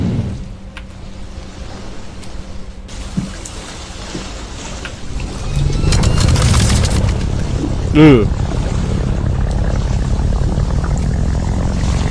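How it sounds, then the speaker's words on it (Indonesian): A seaplane's propeller engine in a brewing-themed video game starts up and revs under throttle, a low rumble that swells into a louder steady drone. "Hold the ignition button to start up the plane. Apply some throttle."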